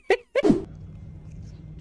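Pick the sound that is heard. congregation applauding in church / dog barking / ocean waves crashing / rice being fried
dog barking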